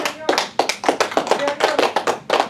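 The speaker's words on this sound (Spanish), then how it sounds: "Dale un aplauso al Señor." A small group in a church claps for the Lord at a Spanish-language Bible teaching, with distinct, close hand claps in an irregular rhythm, loud and crisp with short gaps between them.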